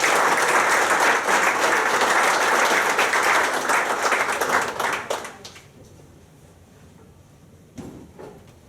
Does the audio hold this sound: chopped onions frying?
no